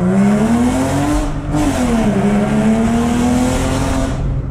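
A rare Porsche with a ceramic clutch accelerates hard while its tires slip, a loud close engine roar climbing in pitch with a brief dip as it shifts, tire noise running underneath.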